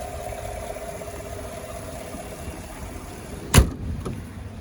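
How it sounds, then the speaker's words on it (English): A 2016 Chevrolet Silverado LTZ engine runs at a steady, moderate idle, a low continuous drone, broken near the end by a sharp thump like a door closing. "Just going to give you a listen on that engine."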